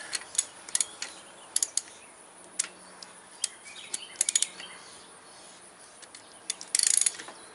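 A wrench works a left-handed car wheel bearing nut, giving sparse, sharp metallic ticks and clicks with quiet gaps between them and a quick burst of clicking near the end, close but light.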